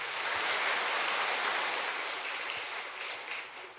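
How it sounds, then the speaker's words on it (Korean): A church congregation at a Sunday worship service applauds in a broad wash of clapping. It is heard at a distance and is fairly faint, tapering off toward the end, with one brief sharp tick near the close. "하나님께 영광의 박수."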